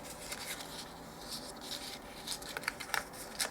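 Cardboard box for a set of vintage multiplication cards being folded and dry-fitted by hand: quiet, close scraping and crinkling with a few sharp crisp creases toward the end, no talking.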